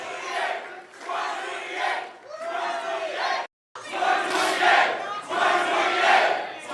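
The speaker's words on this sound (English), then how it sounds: "The crowd goes wild." A large crowd cheers and roars wildly in loud, continuous waves, broken once by a brief cut to silence before the shouting surges back even stronger.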